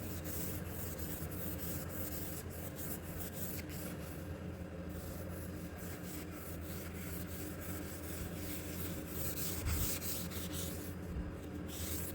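A magic eraser sponge scrubs a dirty surface with a steady, continuous rubbing hiss, close to the mic and fairly soft, with no talk throughout.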